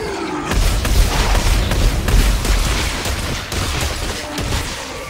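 Weapon fire from the sci-fi horror video game Dead Space 3: dense, rapid bursts of shots and booms fill the whole stretch, loud and continuous with brief dips.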